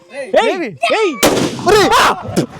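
Excited voices at a village Diwali celebration, then a sudden loud firecracker bang with a sharp crackling burst, followed by more shouting close by.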